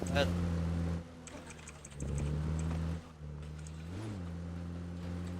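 Car engine in PUBG Battlegrounds, a steady droning motor that rises and falls in pitch with revving, fairly faint under game noise and clicking.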